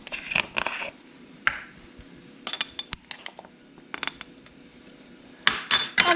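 Metal measuring spoons clink against each other while cinnamon is measured out, bright scattered clinks in several short bursts separated by quiet pauses, close by with no talking.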